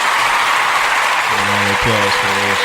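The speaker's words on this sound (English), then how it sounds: "A round of applause for the late show." Applause for a podcast episode rolls on as a steady, dense wash, with a voice and tonal sounds rising over it during the second half.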